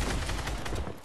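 Rapid bursts of gunfire from a Fortnite battle, a dense loud fusillade of overlapping shots sustained through the moment and tapering slightly at the end.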